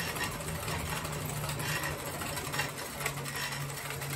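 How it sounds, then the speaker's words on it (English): Hand-cranked kinetic space modulator machine with rotary contacts running steadily: a continuous whirring mechanical rattle with a low hum underneath, even and close throughout. "We've got the space modulator hooked up and running"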